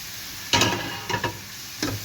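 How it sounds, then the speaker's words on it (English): Chopped onions dropped into a hot pan, a few brief bursts of sizzling and scraping against a steady low kitchen hiss, no voices. "Now let's add the chopped onions."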